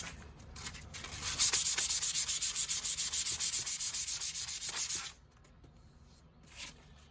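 A blade is sharpened on a roughly 1000-grit Tormek grading stone, giving a close, rhythmic rasping rub that runs for several seconds and then stops.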